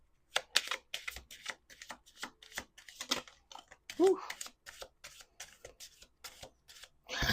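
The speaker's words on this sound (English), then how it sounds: "Six cards on the table. I'm going to do 2 more shuffles." Quick papery riffles and flicks of tarot cards repeat in short bursts while a person talks over them nearby.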